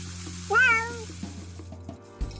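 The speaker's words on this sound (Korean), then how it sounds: "눈 다친 애꼬냥이가 다가와서 한 점이라도 주지 않을까?" A stray cat with an injured eye gives one clear, close, rising-then-falling meow at a campsite while meat grills on a gas burner, followed by soft clinks and background hum.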